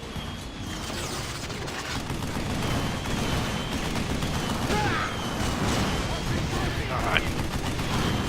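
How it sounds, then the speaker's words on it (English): Turrets fire in the video game Vanquish as a dense, sustained clatter of rapid mechanical gunfire, loud and close, with faint overlapping voices. "those are turrets"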